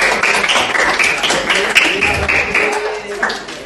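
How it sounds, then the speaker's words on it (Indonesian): A classroom group applauds in a teaching practice session on qurban and aqiqah, brisk clapping from many hands with talking over it, loud and close. "Tepuk tangan buat kelompok Abu Bakar"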